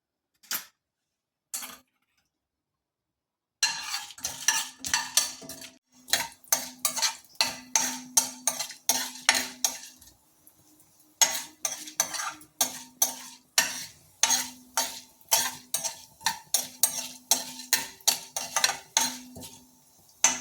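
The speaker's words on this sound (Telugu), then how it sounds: "పోపు వేగింది" Tempering of mustard seeds, urad dal, asafoetida and dried red chillies frying in hot oil, heard up close as rapid crackles, pops and spoon taps in uneven bursts, alone without talk.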